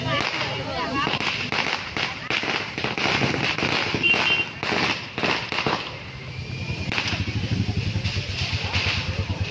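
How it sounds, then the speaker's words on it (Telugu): Diwali firecrackers burst at a college in rapid, crackling volleys of sharp bangs nearby, continuing throughout, with faint voices underneath. "ఇక్కడ కొంతమంది క్రాకర్స్ కాల్స్తున్నారు"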